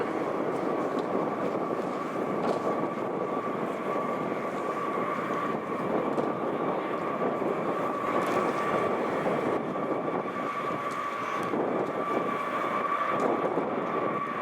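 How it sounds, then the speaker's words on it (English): A Boeing B-52 bomber passes low over the runway at RAF Fairford, a steady, loud broadband engine roar with a droning tone that holds evenly throughout. "Wait until the B52 has gone past."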